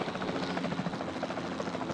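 A helicopter in the video game Jurassic World Evolution 2, its rotor producing a steady, rhythmic chopping throb that stays constant and fairly close throughout.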